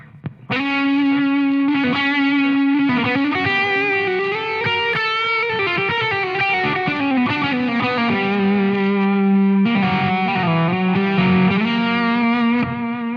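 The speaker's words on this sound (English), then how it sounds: "I need the tube zone with some compression and some echo" Electric guitar played through tube-drive distortion, compression and echo pedals, a continuous sustained melodic line with a thick, saturated, echoing tone throughout, loud and alone.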